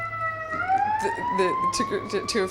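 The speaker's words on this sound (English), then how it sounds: "there was a siren going" A siren wails with a rising, drawn-out pitch, heard faintly at some distance under nearby talking.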